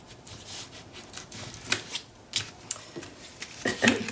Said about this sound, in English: So let's go ahead and get our tape off.